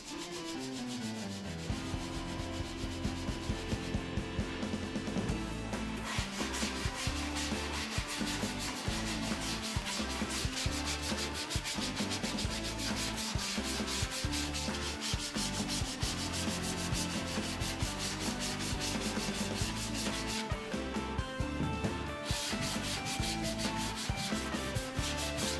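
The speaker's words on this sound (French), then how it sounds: "poncer à nouveau pour éviter les échardes." Steady, dense sanding of wood to smooth away splinters on a climbing and sliding cube, a continuous close rasping with a rapid buzzing texture throughout, no voices heard.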